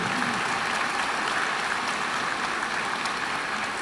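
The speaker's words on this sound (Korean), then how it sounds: "더 큰 박수 좀 보내주시죠." Steady, dense applause from a large crowd fills the hall at a Seoul National University graduation ceremony, continuous and even throughout without pauses.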